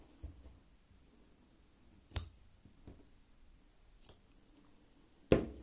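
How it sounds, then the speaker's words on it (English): Scissors snip through crochet yarn on a small amigurumi chick, a few sharp separate cuts spaced apart in a quiet room, close and crisp with soft handling noises between. "Now we can snip that."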